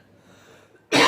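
A single loud, sharp cough bursts out at the end after near silence, close to the listener.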